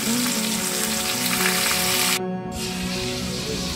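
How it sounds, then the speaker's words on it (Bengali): Fish pieces frying in hot oil during home cooking of a spicy fish curry, giving a steady, close, loud sizzle throughout with a brief dip in the hiss just past the midpoint. "এটা ফার্স্ট টাইম একবার ভাজা হচ্ছে, সেকেন্ড টাইমে পুরো মাছটাই ভাজা হয়ে যাবে।"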